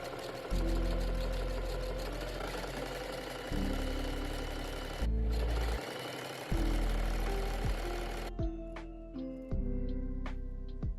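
A sewing machine top stitches dance costume pieces on beige mesh, running in loud mechanical bursts of a few seconds each, separated by short pauses and changes in speed, with no talking.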